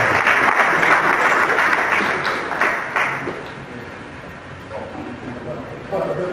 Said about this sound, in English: I think it deserves a very good applause